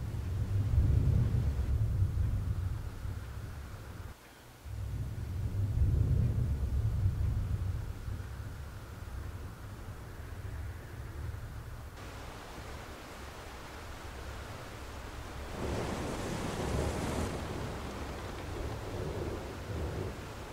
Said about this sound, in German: Ich glaube, ich gerate in einen Sturm.